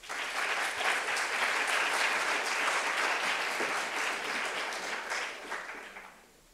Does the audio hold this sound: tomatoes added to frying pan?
no